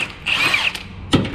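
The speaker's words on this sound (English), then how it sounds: "We're gonna take off the rear subframe bolts." Power tool spinning out a rear subframe bolt on a 2022+ Ford Maverick 2.0L, one whirring burst of about half a second followed by a short sharp rattle, close and loud with no talking.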